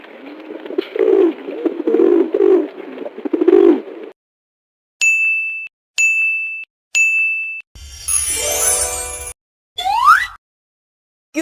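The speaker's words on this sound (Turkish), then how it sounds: "Güvercin." A pigeon coos in a run of soft, rolling low calls lasting about four seconds, loud and close, followed by three bright chime-like dings and a burst of sweeping electronic effects.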